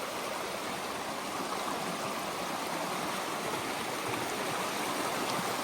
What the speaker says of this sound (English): Look at this cool river crossing, or creek crossing.